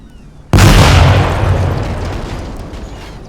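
An explosive detonates in ATOM RPG: Trudograd, a sudden loud boom that bursts out of near silence and leaves a long, slowly fading rumble.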